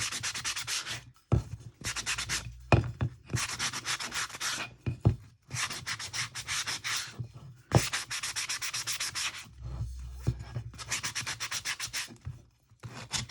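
Sandpaper rubs along the edges of a craft pumpkin in steady back-and-forth bursts, separated by short pauses, close and fairly loud with no talking.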